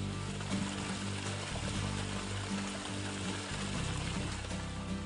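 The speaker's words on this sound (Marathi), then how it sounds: "भर उन्हाळ्यात शेताच्या अंगा खांद्यावरून खळाळणारं पाणी" Water gushes and babbles along the edges of a farm field in Beed in high summer, a steady close rushing flow with a low churning undertone and no voices.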